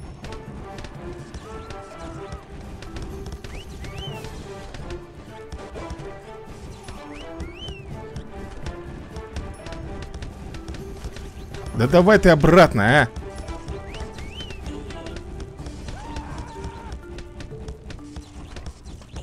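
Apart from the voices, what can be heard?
creature neighing in video game Cursed Treasure 2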